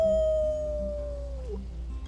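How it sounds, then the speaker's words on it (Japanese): A dog howls in the video game Life is Strange 2, one long, loud, clear howl that slowly falls in pitch and fades over about two seconds, with a low background hum underneath. "まず遠吠えからだ。"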